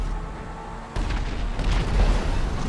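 Missile barrage explosions in GTA 5 arrive as a deep rumbling wave of booms, rising in intensity after a sudden onset, loud and continuous with no speech.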